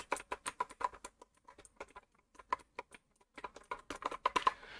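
Clicky blue-switch mechanical keyboard keys are pressed in quick bursts, close and crisp, with short pauses between flurries of typing.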